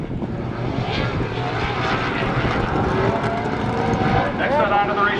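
A Toyota stock car in ARCA Racing Series qualifying at Toledo Speedway roars steadily and loud as it laps the track, with an announcer's voice running over the engine noise.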